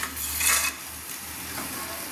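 Cooked patishapta filling is scraped from a pan onto a plate with a utensil, giving a short scraping stir and a soft sizzle. It is close and quiet, over a low background hum.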